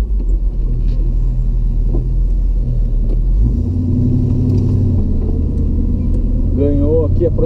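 A Dodge Magnum V8 with an automatic transmission and an Edelbrock Quadrajet carburetor, fresh off a dyno tune, rumbles loudly and steadily up close, with the engine note rising partway through as it revs.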